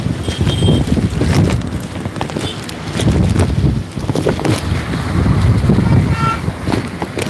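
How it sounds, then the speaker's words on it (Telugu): Rough sea waves surge and crash at RK Beach, Visakhapatnam, during Cyclone Montha, a loud, continuous roar of breaking water with strong wind buffeting the microphone and repeated heavy surges. "అలలు చూడండి ఎప్పుడు కూడా విశాఖపట్నం ఆర్కే బీచ్లో ప్రశాంతంగా ఉంటుంది అటువంటిది ఈ అలల ఉధృతి అయితే మాత్రం ఎక్కువగా ఉందండి"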